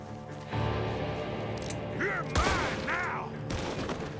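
Gunshots in Red Dead Redemption 2, a few sharp reports and a volley cracking over a game soundscape with other sounds, moderately loud and mid-distance.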